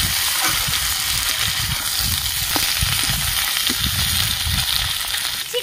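Vegetables sizzle and fry steadily in a hot pan for Bengali cooking, a loud continuous crackling hiss with occasional bubbling pops and no talking.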